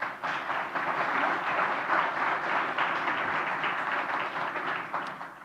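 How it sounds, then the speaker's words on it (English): Sustained applause from an audience at a business forum on Latin America, the United States and Spain in the global economy, steady and dense for several seconds before easing off at the end. "Let's give them a round of applause."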